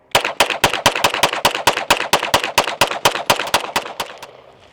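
A Staccato P pistol emptied as fast as possible into a berm at an outdoor shooting range: about twenty sharp, evenly spaced loud shots in quick succession, close and with no other sound, ending in a brief echo.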